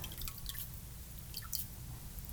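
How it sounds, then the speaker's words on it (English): A painting sponge is squeezed out in a container of water, giving soft, faint drips and small splashes close up in a quiet room. "I pop it back into the water and I squeeze it out again"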